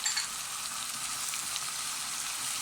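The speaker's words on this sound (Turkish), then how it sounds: "Evet, salçamız da çok güzel kavruldu." Tomato and pepper paste frying in a pan, a steady close sizzle that holds even and unbroken with no voices over it.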